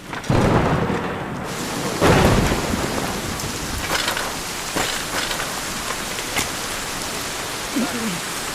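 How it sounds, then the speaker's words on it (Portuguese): Heavy rain pours in the middle of nowhere during a storm, a loud continuous hiss with several sharp thunder cracks and rumbles breaking through, strongest near the start. "Tá chovendo bem forte."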